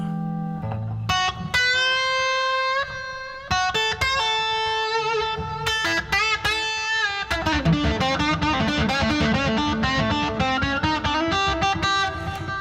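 An electric guitar played through an overdrive pedal rings out in chords and single notes, with a gritty, driven tone that stays loud and fills the passage without any talking.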